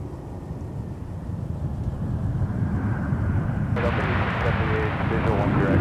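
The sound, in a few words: Airbus A320 arriving on runway 12 right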